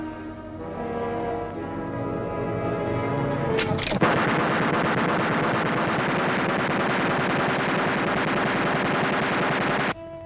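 A runaway machine gun in a 1943 war film fires a long, loud, unbroken burst lasting about six seconds, preceded by a sharp mechanical clatter and ending abruptly.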